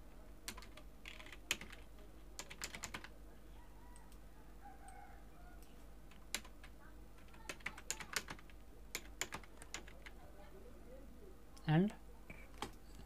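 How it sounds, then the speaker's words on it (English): Scattered keystrokes on a computer keyboard as a login ID and password are entered, sharp clicks arriving in uneven bursts over a quiet room hum, with a rooster crowing faintly in the background near the end. "I am entering my ID password again."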